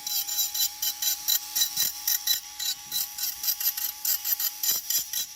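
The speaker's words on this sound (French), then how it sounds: "Là, on va venir la limer de manière à ce que la tuile ne relève pas malgré l'épaisseur du crochet." A hand file works the tabs of a roof tile during a solar panel installation, giving a steady run of rhythmic rasping strokes, about two per second, close and clear with no talk.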